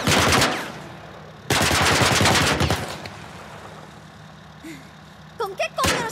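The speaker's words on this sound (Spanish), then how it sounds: "¿Con qué coño nos están disparando? Una torreta militar." A military turret firing in The Last of Us, with loud, rapid bursts of machine-gun fire in two heavy volleys, then quieter game sounds and short voiced exclamations near the end.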